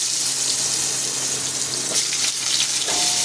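Potatoes and whole cumin seeds dropped into hot oil, a steady loud sizzle and hiss with a couple of sharper crackling bursts near the end.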